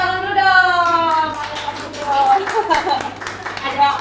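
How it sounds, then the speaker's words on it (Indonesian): An audience of women at a members' gathering applauds, with brisk scattered clapping under a presenter's loud voice, the clapping continuing steadily throughout. "Tepuk tangan dulu dong!"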